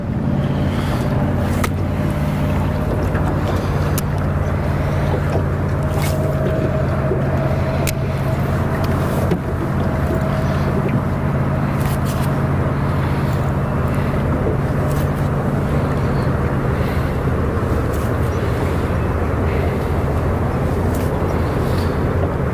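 Wind gusts across a lake during an afternoon of fishing, producing a constant low buffeting rumble with scattered clicks and knocks throughout and no voices.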